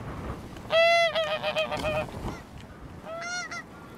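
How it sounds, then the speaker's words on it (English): Geese flying in off the sea over Orkney honk loudly and nearby in two bursts of repeated calls, separated by a short lull, over a faint windy background. "But a lot of geese flying in off the sea, which was interesting."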